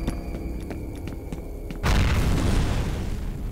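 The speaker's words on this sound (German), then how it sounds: "Wer schmeißt da Granaten?" Grenade explosion in F.E.A.R., a sharp deep boom that erupts suddenly after a stretch of rhythmic ticking and ambient hum, then rumbles on loudly to the end.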